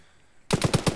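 Gunfire in the military shooter Arma 3: after a brief quiet hush, a quick burst of four or five loud, closely spaced rifle shots rings out in rapid rhythm.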